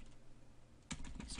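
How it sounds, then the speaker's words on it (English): A master password is typed on a computer keyboard as a quiet, quick run of soft key clicks, with a brief burst of sharper keystrokes near the end. "So you type in your master password."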